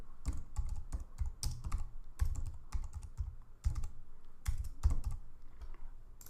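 Keystrokes on a computer keyboard while a name is entered, irregular clusters of close, crisp taps with short pauses between bursts, no voices.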